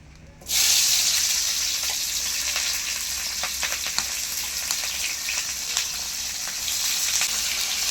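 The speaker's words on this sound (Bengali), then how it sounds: "পেঁয়াজগুলো ততক্ষণ ভাজতে থাকুক।" Chopped onions drop into hot oil and fry with a steady, close sizzle and scattered crackles that hold for several seconds, with no talking.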